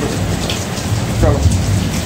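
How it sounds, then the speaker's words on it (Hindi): Heavy rain pouring steadily in Lahore, a dense close hiss with a low rumble of thunder rolling underneath throughout. "ये देखो बारिश चल रहा है"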